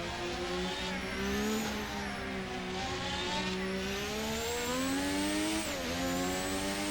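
A McLaren MP4/4 Formula One race car in the Assetto Corsa racing game screams at high revs around the Nürburgring GP circuit, its shrill engine note rising and dipping through gear changes and corners, steady and loud with no talking.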